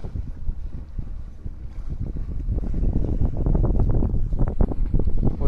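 A fishing boat engine runs out on the open sea during the rescue of a drifting fisherman, a loud, close, throbbing low drone that builds steadily, with wind buffeting the microphone.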